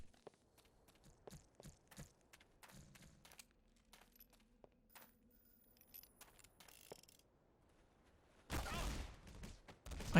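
A sniper rifle shot in a video game, heard as a sudden loud broadband crack near the end after quiet footsteps and clicking gear, with a second burst just after.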